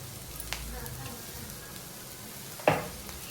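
Sweet corn chivda being stirred with red chili powder in a pan, soft scraping and light sizzling with a sharp clack of the spoon near the end, close and fairly quiet.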